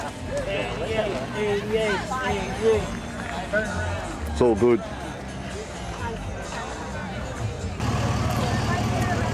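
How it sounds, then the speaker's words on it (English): A huge crowd at a US motor racing event murmurs and chatters in the background while people nearby talk over it, with some passing vehicle noise. "And it's a massive crowd."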